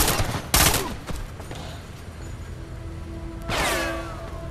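Sniper rifle fire in the virtual reality shooter Sniper Elite VR: two sharp, loud shots about three seconds apart, each followed by a ringing echo that fades into quiet game ambience.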